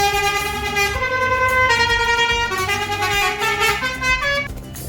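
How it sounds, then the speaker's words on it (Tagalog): A truck engine runs steadily at a cattle unloading site, giving a loud, sustained droning tone with strong layered harmonics for the whole stretch, close by and without pauses. "dalawang truck usually ang ginagamit nila na pang diskarga"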